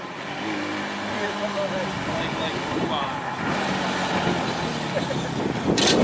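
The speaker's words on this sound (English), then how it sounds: "Oh, he almost got hit by a FedEx truck." A FedEx delivery truck rumbles past nearby as a steady, loud road-traffic drone runs the whole time, with people talking over the engine noise.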